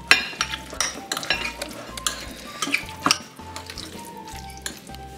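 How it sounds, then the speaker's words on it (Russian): Mayonnaise being stirred into minced liver cake filling in a bowl: a series of close, irregular clinks and scrapes of a utensil against the bowl with soft wet mixing sounds, no talking. "Все это тщательно перемешаем."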